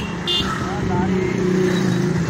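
A car being driven gives a steady engine hum and road rumble from inside the cabin, with people talking loudly over it.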